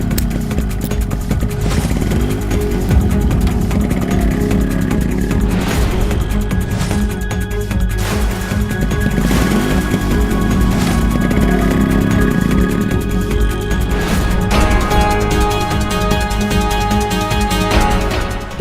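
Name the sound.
motorcycle approaching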